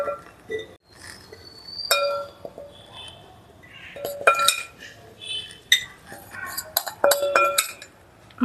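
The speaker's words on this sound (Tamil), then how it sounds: "அதனால நான் வந்து இதை சின்ன பாட்டில் இதிலே ட்ரான்ஸ்ஃபர் பண்ணிடுறேன்" Baby mango pickle being transferred into a small bottle, with sharp clinks and scrapes of a spoon against glass and metal coming in irregular bursts, close and fairly loud, separated by brief quiet pauses.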